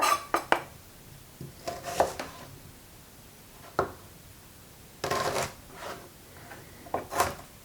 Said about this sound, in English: Add chopped tomato flesh and sausage meat to a mixing bowl.